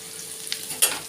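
Stirring and frying in a pan for a home-style fish curry with potatoes and stems, a steady low sizzle with a couple of brief clattering scrapes, close by and with no talking.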